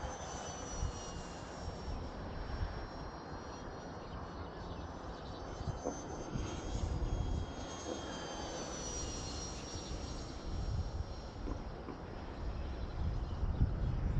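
A Zeta Ultra-Z Astro RC plane with a 64mm electric ducted fan flies overhead, its steady whooshing whine rising and falling as it passes, fairly distant and continuous over outdoor wind rumble.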